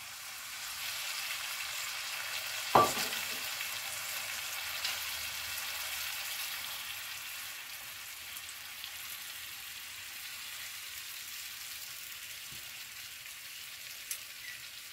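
Sliced tomatoes fry with eggplant in a pan, giving a soft, steady sizzle over low heat, with one sharp clack early on and a few faint taps later.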